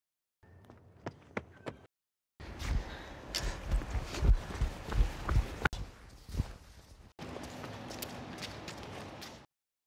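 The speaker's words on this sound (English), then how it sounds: "How about footsteps now?" Footstep sound effects from a sound library: a few sparse, separate steps at first, then a longer run of dense, close, rhythmic footfalls on a hard surface, followed by another stretch of steps, with no talking.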